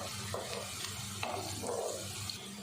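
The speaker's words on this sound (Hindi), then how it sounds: "इसमें अब एक तेज़पत्ता और एक बड़ी इलायची डालेंगे" A bay leaf and a black cardamom pod drop into hot oil in a frying pan for aloo anda curry, giving a continuous close sizzle with a few soft stirring scrapes and light clicks.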